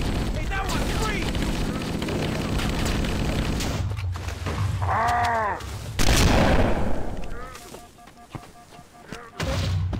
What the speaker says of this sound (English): There was just a secondary Minecraft explosion.